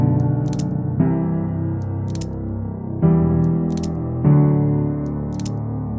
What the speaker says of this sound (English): Here's the sound of the drumstick snapping in half.